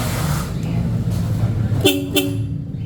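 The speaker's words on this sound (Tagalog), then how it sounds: "Parang pang sasakyan atang busina mo." Two short, close motorcycle horn toots, sounding like a car horn, in quick succession over an idling engine rumble, with faint voices nearby.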